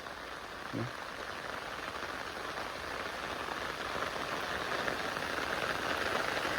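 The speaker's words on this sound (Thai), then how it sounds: "ฝนตกลงมาได้น้ำหลายเติบ" Steady rain pours down outdoors as a dense, even hiss that continues unbroken and grows slightly louder toward the end, with no speech over it.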